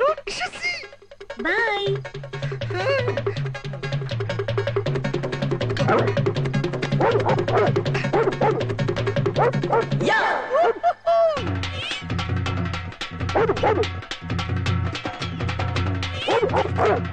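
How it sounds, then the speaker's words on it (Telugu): A neighbour's dog barking in a Telugu comedy movie scene, sharp repeated yips and barks over background music, with people talking and laughing at times. "అది మా కుక్క కాదు, మా పక్కింటి వాళ్ళది."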